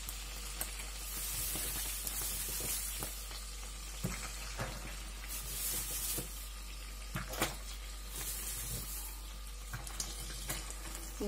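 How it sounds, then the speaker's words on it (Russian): Cabbage rolls sizzle steadily in a frying pan, a continuous crackling hiss with occasional louder pops and the clink of utensils, close and fairly loud, with no talking. "У нас уже сковородочка шкварчит."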